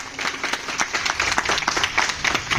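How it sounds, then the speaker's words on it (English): Round of applause at a school retirement gathering for a vice principal: brisk, continuous clapping from many hands in a room, fairly close, steady throughout with no voices over it. "I think that deserves a huge round of applause."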